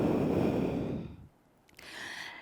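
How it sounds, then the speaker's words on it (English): Two or three full breaths drawn and released through the nose during a yoga flow, a broad airy exhale that fades to near silence, then another soft rushing breath follows. "Recover your breath with 3 full breaths through the nose."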